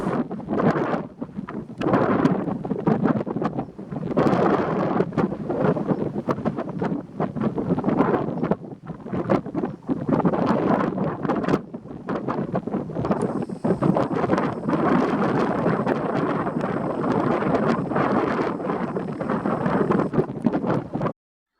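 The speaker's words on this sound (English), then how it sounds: "I hope I can beat the wind this time" Wind gusts buffet the microphone outdoors beside a canal on a trip between Leighton Buzzard and Marsworth, a steady rough roar that lasts the whole stretch, with a faint thin whine in the background later on.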